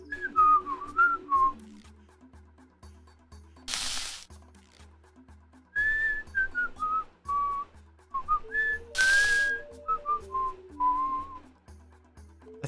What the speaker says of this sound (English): That's as much as I can whistle.